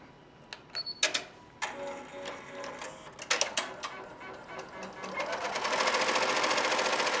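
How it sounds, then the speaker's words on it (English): Embroidery machine stitching out a design in a hoop, with irregular needle clatter and clicks at first that build into a steady, fast rhythmic mechanical buzz, fairly close and moderately loud. "The machine then sews out the entire design section by section in the order that it was created."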